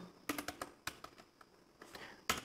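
Keystrokes on a computer keyboard while writing Python code, a dozen or so sharp, close clicks in irregular clusters with brief gaps, faint and heard alone.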